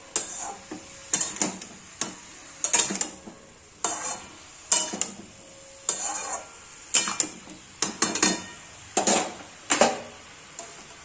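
A mixed vegetable curry is stirred in a pan, a spoon scraping and clinking against the metal in regular strokes about once a second, close and clear, with no talking.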